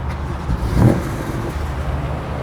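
A BMW M3 engine fires up close by: a short crank and a sharp rising rev flare, then a steady idle.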